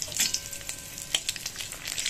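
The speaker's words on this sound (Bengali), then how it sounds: "এবার কড়াইয়ের তেলে দিয়ে দিলাম গোটা গরম মশলা আর 4টে তেজপাতা।" Whole garam masala and four bay leaves fry in hot oil in a kadai, a close crackling sizzle with sharp pops and brief stirring scrapes, no talk.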